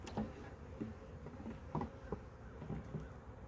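Honeybees buzz around an opened hive during a check-up, a soft steady drone with faint intermittent ticks and taps from handling the frames, fairly quiet throughout.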